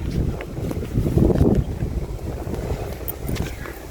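Strong wind buffets the microphone in a steady, rumbling roar with gusts swelling louder midway, outdoors and with no talking.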